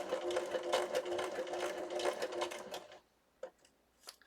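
Sewing machine driven by a foot pedal, running in quick bursts of rapid stitching that speed up and slow down for about three seconds, then stop, leaving a couple of faint clicks.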